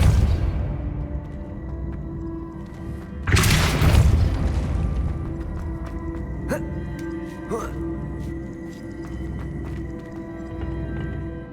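A Depulso spell in Hogwarts Legacy lets off a single loud, booming blast about a third of the way in, surrounded by a low rumbling game ambience with a few fainter whooshing spell effects afterward.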